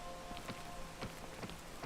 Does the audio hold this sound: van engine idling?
no